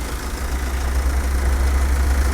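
A Ford Mondeo 5 Titanium engine idles quietly and steadily with a low, even rumble and hum, no voices, constant and fairly close throughout.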